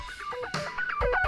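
Dry synthesized guitar in GarageBand on an iPad with no effects, playing a quick phrase of plucked notes with shifting pitch, short and moderately loud with no voices.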